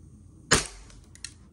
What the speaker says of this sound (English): Y'all heard the BB too